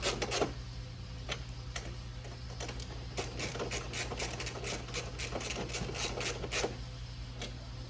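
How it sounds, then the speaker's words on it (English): A ratchet tightens the back bolt on an ATV rear rack, giving irregular sharp clicks over a steady low hum with no talking. "Then you get your ratchet, lift up your rack a bit, and tighten the back bolt first."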